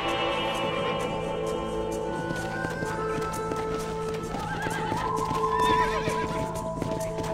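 Horse hooves clip-clop steadily while a rider herds cattle to pasture in the video game Red Dead Redemption, with a horse whinnying over a continuous ambient bed.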